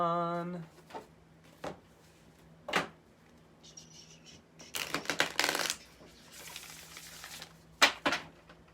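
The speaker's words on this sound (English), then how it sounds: "I just want to keep shuffling." Tarot cards being shuffled by hand in a quiet room, coming as several short riffling bursts and soft slaps with pauses between, the longest flurry near the middle, a faint low hum underneath.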